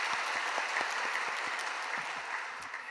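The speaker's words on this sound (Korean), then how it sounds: "은혜의 말씀 전해주신 우리 목사님께 감사의 박수 드리겠습니다" A congregation at an early-morning church service claps steadily for the pastor after the sermon; the applause is even and sustained throughout, with individual claps standing out over a dense wash.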